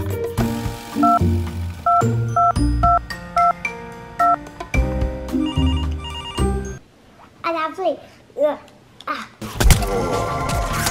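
Phone keypad dialing in a kids' skit, a string of short paired two-tone beeps repeating at a steady pace, loud and close, followed by a few brief clicks and quiet sounds.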